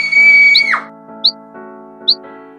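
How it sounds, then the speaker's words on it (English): A girl's high, sustained scream as a storybook sound effect, loud and alone, cutting off sharply, followed by a quiet sustained musical background with two brief high chirps. "Red Riding Hood screamed."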